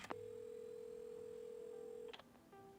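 Telephone dialing in the video game Assemble with Care: a steady dial tone holds for about two seconds, then a quick burst of keypad beeps, followed by a softer ringing tone.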